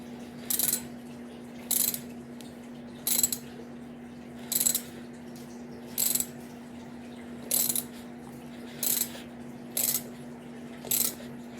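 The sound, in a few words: tightening a nut during turbo kit install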